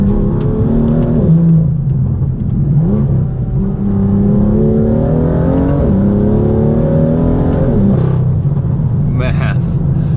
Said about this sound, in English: It just bangs and pops and crackles